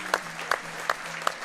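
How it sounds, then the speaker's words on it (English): Powerlifting championship spectators clapping for a lifter, with a few distinct, evenly spaced loud claps standing out over a thin background of crowd applause and faint commentary. "Large round of applause for him."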